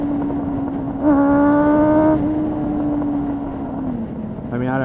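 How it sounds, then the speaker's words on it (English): A motorbike with a loud aftermarket exhaust drones steadily while riding, with a sharp rev rising about a second in and another surging rev at the end, close and continuous. "listen to this crazy exhaust"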